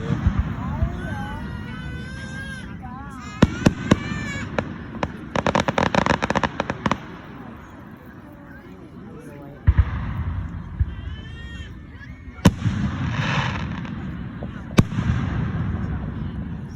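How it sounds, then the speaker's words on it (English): A 2025 fireworks show booms and crackles with rapid bursts and sharp bangs, some close and loud, others farther away, while people talk throughout. "I see fireworks going on over there as well."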